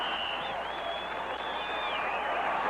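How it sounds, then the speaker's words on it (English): Football stadium crowd at a Broncos versus Patriots game cheering a Broncos gain, a steady distant roar of many voices held at an even level throughout, with a high whistle-like tone drifting above it. "the crowd acknowledging another 4 downs for the Broncos as they move inside the 25"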